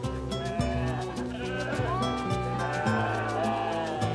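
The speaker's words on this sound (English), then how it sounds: "He has to round the sheep up into a circle and keep them still." A flock of sheep being rounded up into a circle by a herding dog, with loud overlapping bleats and lowing calls crowding close together throughout.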